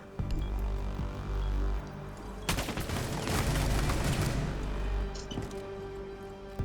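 Rapid gunfire from the tactical shooter Rainbow Six Siege during a one-on-one tournament match, loud bursts of shots crowding together into a dense volley that swells toward the middle before easing off.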